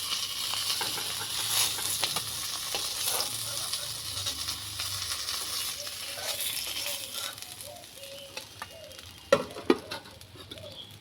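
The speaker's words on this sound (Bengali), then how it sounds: "বাকি মাছগুলো উল্টে পাল্টে ভেজে নিলাম" Katla fish pieces fry in hot oil with a continuous close hiss and patter, while a few sharper clicks and knocks of turning the fish stand out near the end; no talking.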